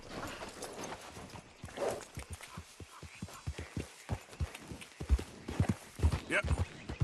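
Horse hooves clip-clop at a steady walking pace in the Western video game Red Dead Redemption 2, the footfalls fairly soft and close, with a voice speaking briefly over them.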